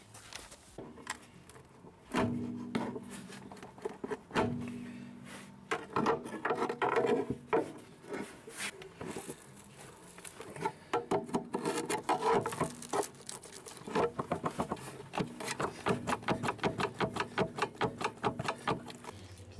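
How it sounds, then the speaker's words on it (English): A pry bar works a sealant-stuck brake servo out of a Vauxhall Corsa, making faint scraping, creaking and knocking sounds, then a run of rapid rhythmic rasping strokes toward the end. "So I'm going to need to get a pry bar and pry that out."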